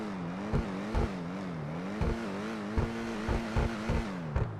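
A Cinquemila car in GTA 5 Online revs its engine, a warbling, rising and falling drone punctuated by several sharp bursts, moderately loud and heard without talk.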